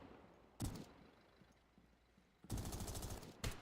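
Gunfire in the tactical shooter Zero Hour during a competitive league match: two separate bursts, a short one and then a longer sustained volley, loud against a low background hum with no talking.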